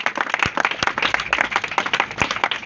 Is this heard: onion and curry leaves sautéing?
no